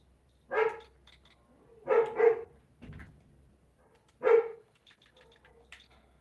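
A dog barks loudly and close by: a single bark, then a quick double bark, a pause and one more, with faint whimpery noises between, and no talking.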